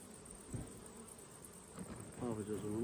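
Honeybees buzzing in an opened hive, a low steady hum close by, with a voice talking faintly underneath toward the end.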